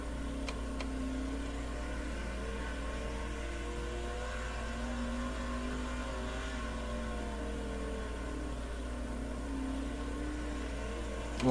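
Race car in the World of Outlaws video game driving a practice lap in a UMP modified, a steady droning engine note with wavering pitch under a constant low hum, sustained and even throughout with no talking.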